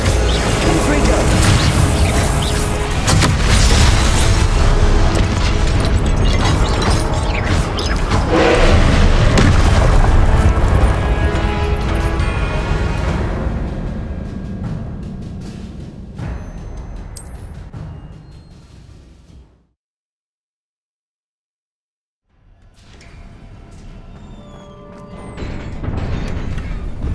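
Confringo explosive spell blasts in Hogwarts Legacy rumble as a long, dense roar of booms and crashes that fades, drops to brief silence, then returns as lower rumbling.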